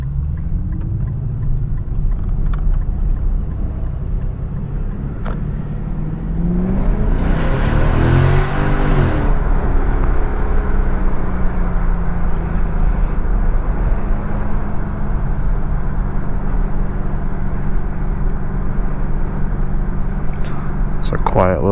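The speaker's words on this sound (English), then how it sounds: "I like the exhaust. Might be something wrong with it, but it sounds better than it used to." A 2011 Infiniti M56x exhaust drones low and steady while driving, with a brief brighter swell of engine and road noise midway; a voice talks over the rumble.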